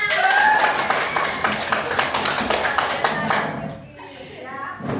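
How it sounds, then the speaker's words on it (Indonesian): Applause from an audience at a school or teacher-training session, a burst of hand clapping with children's voices mixed in, loud at first then thinning out toward the end. "Terima kasih banyak tepuk tangan"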